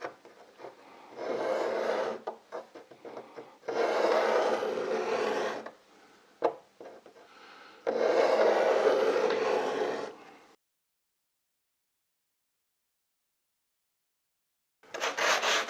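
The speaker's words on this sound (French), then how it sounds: "Et ensuite, on y va au racloir." Cabinet scraper shaving wooden gunwales on a small boat, three long rhythmic rasping scrape passes close to the listener, then silence before a fourth stroke begins.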